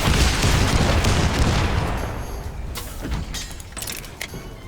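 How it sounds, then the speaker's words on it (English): Rockets launched in the mech combat game Ironcast: a loud booming volley followed by several sharp bursting impacts and a lingering metallic tail, with no talking. "always open up with rockets"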